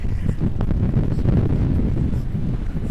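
Strong wind buffets the microphone at Punta Sur, Cozumel, in a continuous, rough low roar with no pauses.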